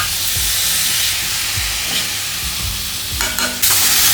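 Raw shrimp shells being stirred in a hot pan of oil and chilli powder for a Godavari-style curry, giving a steady loud sizzle and hiss with scraping stirs throughout and a louder burst near the end.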